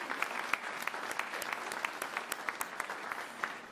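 An audience at a poker awards ceremony claps in a moderate, fairly sparse round, with distinct individual claps standing out over a steady patter, heard at a slight distance.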